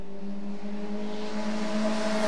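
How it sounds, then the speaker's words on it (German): A motorcycle rides past on Calle Ocho, its engine hum growing steadily louder and a little higher in pitch as it draws near, with faint street noise around it. "Und da kommt das Motorrad gefahren."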